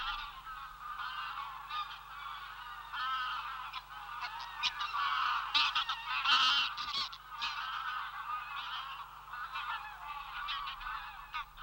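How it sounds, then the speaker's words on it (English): Geese honk in flight above a forest loch in the Caledonian pinewoods, and the dense, overlapping chorus of calls carries on steadily, swelling and fading slightly as the flock passes. "The coming of the geese heralds the coming of winter."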